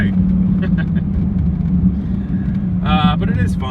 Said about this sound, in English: driving the Dodge Viper through the snow like this